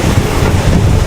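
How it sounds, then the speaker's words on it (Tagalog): Strong outdoor wind buffets the microphone in a loud, continuous rumbling roar, with no voices over it. "Lakas ang hangin guys!"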